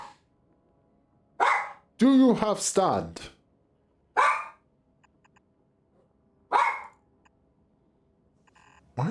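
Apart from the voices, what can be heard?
dog barking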